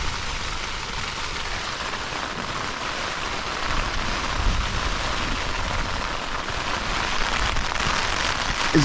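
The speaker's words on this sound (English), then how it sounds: "Is there any better sound than rain on a tent?" Steady heavy rain drums on a tent during a stormy wild camp in the Cheviot hills, a dense continuous patter that swells slightly louder toward the end, with no voices.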